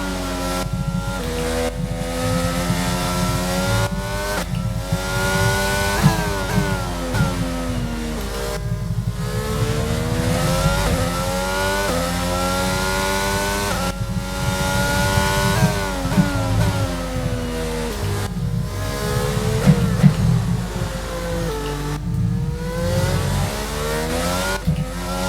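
Formula 1 race car engines in F1 22 scream steadily through a race, the high-pitched whine climbing and dropping repeatedly as the car accelerates, brakes and shifts gears, with no pause.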